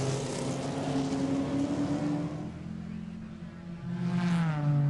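Trans Am race cars, including a Camaro, racing at Mid-Ohio, engines droning and shifting pitch as they pass at moderate distance, a steady roar that fades midway and then rises again with a climbing rev.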